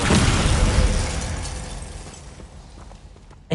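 A Descendo slam spell from Hogwarts Legacy lands as a loud, booming impact whose rumble decays over a few seconds, ending with a sharp short burst.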